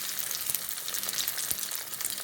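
Prawns deep-frying in hot oil, a steady close crackling sizzle with small bursts of popping, no voices.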